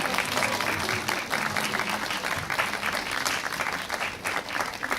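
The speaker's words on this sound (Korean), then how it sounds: "박수 부탁드립니다." Dense, steady applause from a cinema audience greeting the lead actors of the Korean film Deja Vu at a stage appearance, filling the room continuously for the whole stretch.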